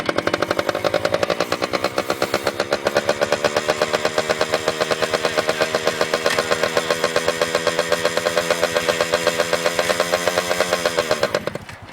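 A dirt bike engine runs close and loud with a steady, rapid pulsing beat, holding an even pace for about eleven seconds before abruptly cutting out.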